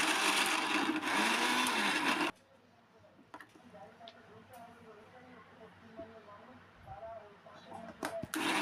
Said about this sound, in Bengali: মিক্সার গ্রাইন্ডারে পটলটা বেটে নেব